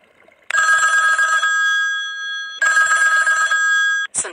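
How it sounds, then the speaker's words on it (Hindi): A personalised name ringtone plays as a loud electronic telephone bell ring in two long bursts separated by a short gap, ending with a brief chirp. "ये आपके नाम की रिंगटोन बनकर तैयार हो गई है।"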